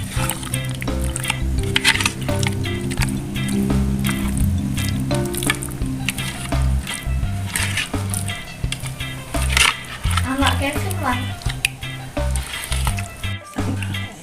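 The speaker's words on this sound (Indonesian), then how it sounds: "Kemudian kita aduk rata." Wet squishing and scraping of a thick, salted mixture for homemade sardines being stirred in a bowl, in repeated uneven strokes, close and fairly loud.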